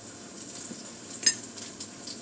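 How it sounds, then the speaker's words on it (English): Meat frying in a pan is stirred with a utensil, giving a soft steady sizzle with a few light scrapes and one sharper clink near the middle, close and fairly quiet. "Let me go over here and stir up this meat."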